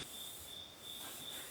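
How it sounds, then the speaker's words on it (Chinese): Insects chirping outside a tin-roofed house at night in the Nujiang canyon on the road to Medog, a steady high pulsing trill over a faint background hiss, with no voices. "这屋子的外面全部都是虫鸣声"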